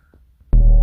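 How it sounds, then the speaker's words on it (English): A singing voice run through a feedback killer and reverb in the BandLab phone app: after a near-silent stretch it bursts in loud, as a sustained, washed-out tone with a dense, smeared ring. "feedback killer plus some reverb sounds like this"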